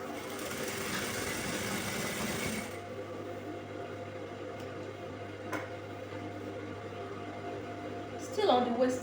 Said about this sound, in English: I'll bring my machine here to bring it a curvy shape.